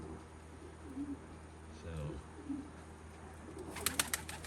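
A pigeon in a racing loft gives a few soft, low coos amid quiet background noise, with faint voices in the room and a brief flutter of higher clicks near the end.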